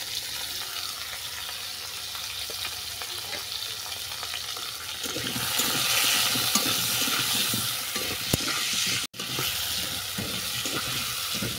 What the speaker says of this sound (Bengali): দু মিনিটের মতো ভেজে নেওয়ার পর